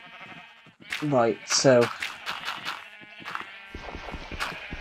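Sheep bleating in the Minecraft video game, two loud wavering bleats close together near the start with more sheep sounds and game noise after, while someone talks briefly.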